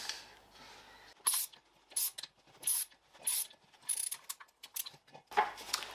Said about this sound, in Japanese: 一旦古いナットで締め上げます。